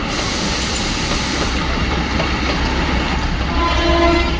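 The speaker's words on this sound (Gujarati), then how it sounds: "પાછળથી ટોય ટ્રેન ચાલી." A toy train rolls past nearby with a loud, sustained rumble and rhythmic wheel clatter, and a tonal horn-like note sounds briefly toward the end.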